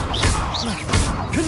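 Spell impacts and magical whooshes from the Stupefy stunning charm in the Hogwarts Legacy video game, two or three sharp hits over a dense, busy battle bed with sweeping tonal swishes.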